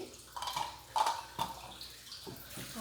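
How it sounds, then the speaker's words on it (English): Hands being washed under a running kitchen tap during cooking, with irregular splashes and bursts of water against the sink, fairly close and moderate in level, no talking. "Wash my hands really quickly."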